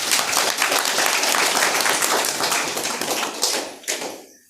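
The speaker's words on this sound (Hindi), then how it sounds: "सेवाधारियों के लिए आप तालियां बजाइए।" An audience claps together for volunteers at a spiritual class, a dense sustained round of applause that holds steady and then thins out and fades near the end.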